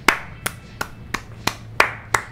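A person claps their hands at the end of a season in a FIFA 23 career mode session, seven sharp, evenly spaced claps close to the mic over a quiet background hum.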